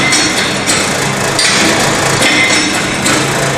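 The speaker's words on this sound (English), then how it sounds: "56 number of blows will be given using the compactor" A modified Proctor compactor rammer drops repeatedly onto a sand soil layer in a mould, giving steady, loud, close thuds in an even rhythm, with no talk.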